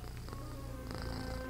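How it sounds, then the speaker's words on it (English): Cat purring in the video game Jazzpunk, a soft, steady low rumble with gentle rhythmic pulses, close and quiet. "I'm not a very mean cat."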